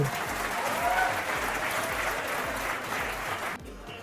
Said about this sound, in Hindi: ताली तो बजा लो